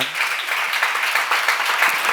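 An audience claps steadily at a church seminar, a dense continuous patter of hands that holds at an even level with no talking over it.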